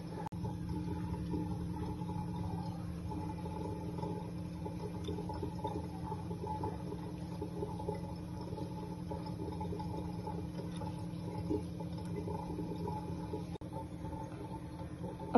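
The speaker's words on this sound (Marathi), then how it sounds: "आता हा आपण 2 ते 3 वेळेस चांगला धुवून घेऊया" Quinoa is washed by hand in water, giving a faint, continuous swishing and trickling that runs steadily and quietly throughout.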